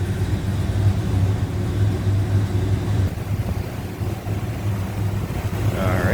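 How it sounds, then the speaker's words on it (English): A numbers-matching 1969 Plymouth Road Runner's 383 V8 idles smoothly with the hood up, a steady, even low rumble held close and constant throughout, with no voices over it. "383 running very smoothly"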